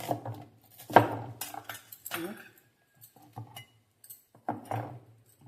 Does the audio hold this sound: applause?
no